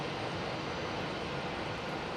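An Airbus A320 jet at Hamburg Airport gives a steady, broadband engine roar that holds loud and unbroken throughout, with no voices.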